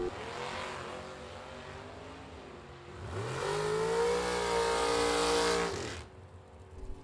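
A 1979 Chevy Malibu drag car at a bracket racing event, its engine idling rough and low, then revving hard into a loud, rising roar for a few seconds before cutting back to idle.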